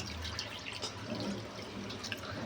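Water is poured into a pot for prawn biryani, giving a steady, soft splashing stream that runs continuously at close range.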